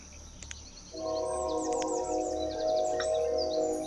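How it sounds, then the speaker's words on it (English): A steam train in the colonial town-building game Banished sounds a sustained whistle that swells in, steady and fairly loud, while birds chirp in the background. "You hear the train yet?"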